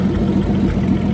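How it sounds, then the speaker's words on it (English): An old Allis Chalmers WC tractor engine runs steadily just after starting, a loud, close, low chugging idle with an even rhythm and no voices. "This thing's gotta be one of the best sounding tractors ever made"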